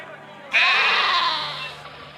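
A single sheep in Caesar III gives one loud, drawn-out bleat that rises suddenly and fades slowly over about a second and a half, after a quiet start.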